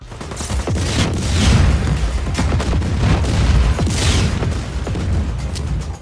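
An explosive barrel blowing up in the video game Just Cause 4, loud booming blasts with rapid crackling gunfire-like detonations rolling on through the whole stretch.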